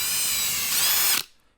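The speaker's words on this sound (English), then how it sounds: "I used a centering drill bit for this process." A power drill with a centering bit bores into aluminum in a loud, high-pitched whine that swells briefly before stopping abruptly.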